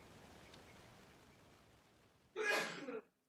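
A single sneeze, fairly close and sharp, bursting out after a few seconds of quiet room hiss and ending abruptly.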